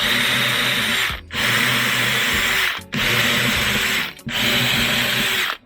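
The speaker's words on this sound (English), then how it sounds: "I have 6 holes to drill." A power drill boring six holes through a metal box-gutter shade for a Ring Stick-Up security camera, with three long loud whirring bursts separated by brief pauses, close and alone.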